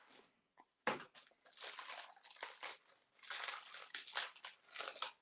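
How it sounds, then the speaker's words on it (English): Close plastic bag crinkling and crushing over a small glass pigment jar, in repeated bursts of rustling and crackling with brief pauses, no talk. "I've got a plastic bag on top, so it's easier to open up."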